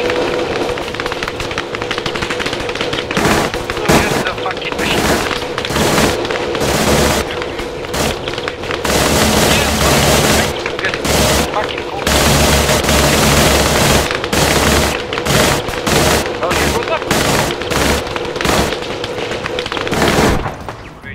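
Continuous loud machine gun fire in a military shooter game, long dense bursts broken by brief pauses, with booming impacts throughout.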